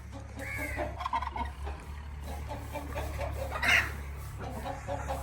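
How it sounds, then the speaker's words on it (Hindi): Chickens cluck and squawk around a farmyard in the evening as they roam outside before being shut in, several birds calling intermittently close by over a steady low hum. "मुर्गियाँ बंद करवाते हैं, सारियाँ बाहर ही फिर रही हैं।"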